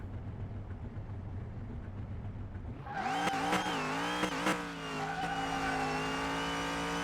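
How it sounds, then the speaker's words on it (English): A Tempest Magnum's engine fires up after a few seconds of low rumble and revs hard. Its loud rising and falling roar is close and steady, with sharp throttle blips, and no one speaks over it. "Listen to that engine."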